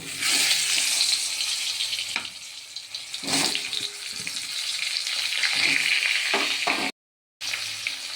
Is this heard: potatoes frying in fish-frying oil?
yes